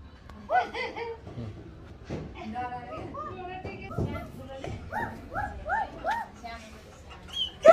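A dog barks and yips in short repeated bursts, with whimpering notes, over people talking and laughing nearby.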